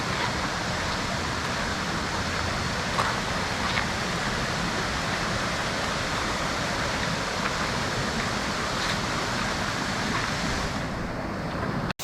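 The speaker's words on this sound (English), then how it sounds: "So finally, we're here at the Tran waterfall, Suoi Tran waterfall." Suoi Tranh waterfall on Phu Quoc, Vietnam, gushing as a steady, loud, broadband roar of falling water with no letup, heard close and alone.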